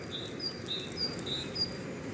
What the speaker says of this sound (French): C'est un merle, je crois que c'est un petit merle, non?